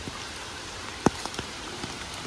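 Steady rain falls on surfaces outdoors near an old palace and an elephant yard, with an even hiss and a few louder drips and taps standing out, no voices.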